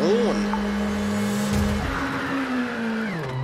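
A rally car on worn tyres in the WRC 7 video game at Rally France screeches through a long skid over a steady engine drone, with a pace-note voice speaking over it.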